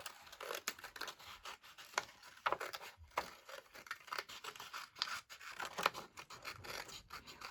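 Scissors snipping through paper or vintage handkerchief material, a quick irregular series of close, quiet cuts and crinkles with no talking.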